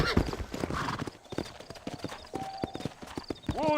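Horse hooves clip-clop in the Red Dead Redemption video game, a quick uneven trot of close hoof strikes with a voice speaking over part of it.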